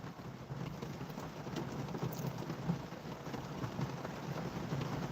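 Heavy rain pounding on a parked car in Los Angeles, a dense, constant drumming of drops on the roof heard from inside, steady and close with no voices.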